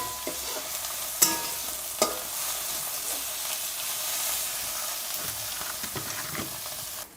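Fresh cashew masala curry sautéing in a pan, Malvani style, with a continuous bright sizzle and hiss under a couple of sharp spatula knocks and scrapes, close and steady.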